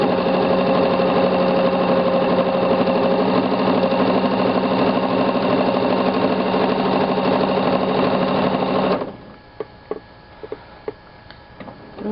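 A sewing machine runs fast for free-motion stitching on a quilt, a steady rapid whirring chatter that stops abruptly, followed by a few faint clicks and handling noises.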